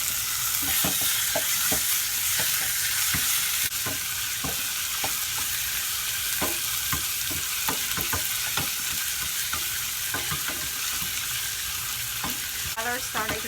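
Pickle and meat stir-fried in a pan, a loud continuous sizzle broken by rapid, repeated scrapes and clacks of the spatula close by.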